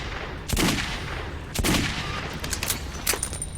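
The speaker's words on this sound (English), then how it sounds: "those couple of shots there that I missed were definitely my fault" Gunfire in Metro 2033, a few loud close shots spaced about a second apart over a dense, noisy backdrop, with a quicker cluster of fainter shots toward the end.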